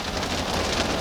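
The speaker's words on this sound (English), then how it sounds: "so if you hear that, that's the rain." Heavy rain pours down in the Pacific Northwest, a dense, steady hiss of drops on surfaces filling a brief moment with no voices.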